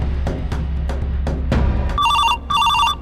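A telephone rings twice in quick electronic bursts near the end, after a run of sharp knocks or thumps. The ring is clear and close in a home setting, with no talking.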